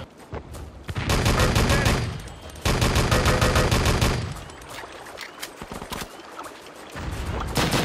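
Gunfire from the Wolfenstein: Enemy Territory Legacy online shooter, with two long loud bursts of rapid shots, a quieter stretch of scattered sounds, then firing resumes near the end. A voice speaks briefly over the action.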